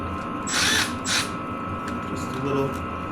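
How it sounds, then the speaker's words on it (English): A Milwaukee impact wrench loosens 10 mm pinch bolts on a Beta 390 RR-S motorcycle front axle, giving two short, loud bursts close by, with a spoken voice running through the work. "Should make quick work of it with my Milwaukee Impact"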